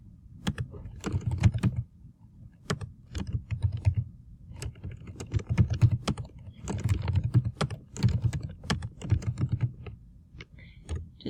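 Fingers tap on a computer keyboard in quick bursts of clicks separated by short pauses, close and fairly quiet, with no voice.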